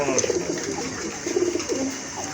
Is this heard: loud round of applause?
no